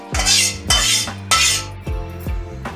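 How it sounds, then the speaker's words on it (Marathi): Whole spices dry-roasting in a pan are stirred with a metal spoon, producing five loud rhythmic scraping clatters close by, each ringing briefly, with no voices. "आता आपण अख्खे मसाले भाजून"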